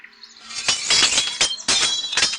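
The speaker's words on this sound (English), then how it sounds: "That acorn exploded." Acorn exploding in the game Snow Queen, a loud glassy shattering burst followed by tinkling, crackling fragments in two close waves, with no voices.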